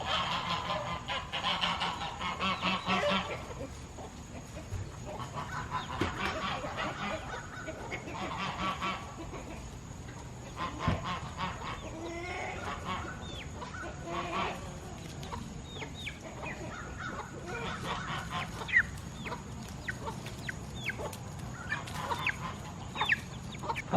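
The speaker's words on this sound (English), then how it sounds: "I'm also gonna let the chickens come out, the egg layers, and let them free range for the evening." Free-range egg-laying hens let out on a homestead in the evening cluck and squawk in a busy, overlapping flock, with occasional honk-like calls and no talking.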